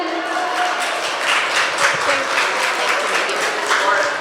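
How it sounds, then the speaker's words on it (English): Audience applause at an Asian American heritage festival as a speaker is welcomed to the stage, a sustained wash of many hands clapping, fairly loud and even throughout, with voices mixed in underneath. "a round of applause for Nancy Chen"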